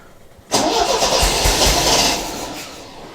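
MGB classic car engine cranking and catching, a loud start-up roar that holds steady with thumping low pulses for a couple of seconds before easing slightly.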